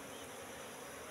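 Wild Apis cerana bees buzzing around their queen, a dense steady hum filling the clip, faint and without pauses.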